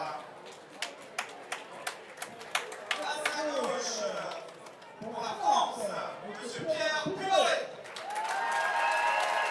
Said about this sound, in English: the intro of Pierre Puy-Barré gets the big reaction from the crowd here